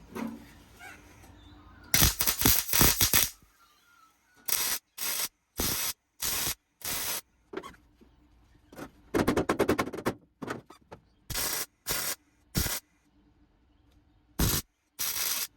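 Welding a chassis body mount on a Landcruiser FJ40: repeated short bursts of crackling, hissing arc noise separated by near-silent pauses, loud and close.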